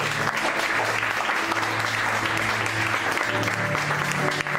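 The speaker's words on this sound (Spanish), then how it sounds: "Dale una ofrenda de palmas a Dios." A church congregation claps steadily as an offering of applause to God, dense and continuous throughout, with faint sustained organ or keyboard tones beneath.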